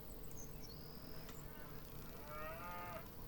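Cattle lowing in the farming simulation game Farm Manager 2021, a faint drawn-out moo rising near the end over steady background ambience and soft game tones.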